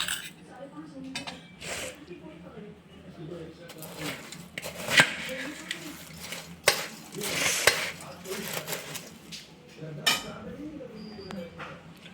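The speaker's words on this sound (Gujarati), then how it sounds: "હવે આપણે બધું મિક્સ કરી દઈશું" Puffed rice chevda with chillies and curry leaves being stirred and tossed in a metal pan, giving scattered scraping and clinking knocks of varying loudness over a steady low hum.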